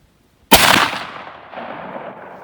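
A 16 gauge shotgun fires a single .600 caliber round ball at an outdoor range, one sharp loud blast followed by a fading rolling echo, with no speech.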